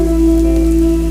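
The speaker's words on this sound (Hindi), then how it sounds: "बरसात बढ़त जा रहल बा" Heavy rain falls in a cartoon as a dense, steady hiss, loud and unbroken, with a low droning tone layered beneath it.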